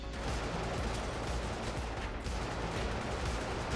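Rapid, continuous gunfire from a Gatling gun on a mech in the video game Brigador, a dense unbroken roar of shots that stays loud throughout with no pauses.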